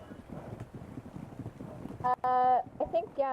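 Horse hooves clopping in a role-play video game, a soft steady rhythm under continuous talking, followed by a loud tonal whinny-like burst near the end.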